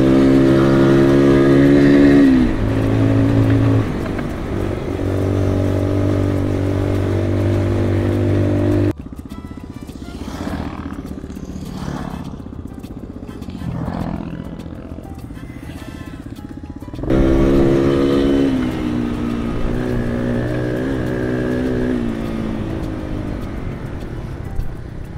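A 17 brake horsepower motorcycle on a trail ride in Suffolk, a close, loud engine drone and revving whose pitch climbs through the gears, dropping off to quieter wind and rumble in the middle before the engine pulls hard again.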